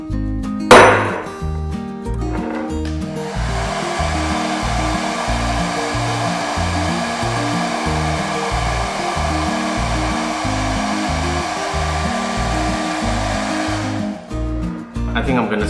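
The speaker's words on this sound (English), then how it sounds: "a domestic hand dryer." A domestic hand dryer blows hot air onto an ice ball. After a brief knock it switches on into a loud, steady whirring roar that holds for about thirteen seconds, then cuts off.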